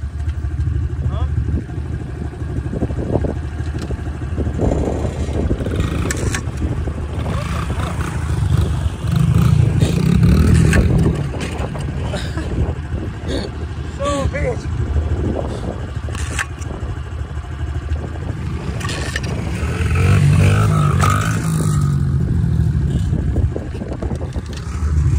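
A dirt bike is kickstarted and its engine runs with a loud, rough, revving roar that rises and falls, close by, while people talk over it outdoors.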